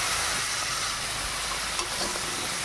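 Spice paste and fried elephant foot yam with potatoes stirred in a hot pan, producing a dense, steady sizzle up close with faint scraping and no voices.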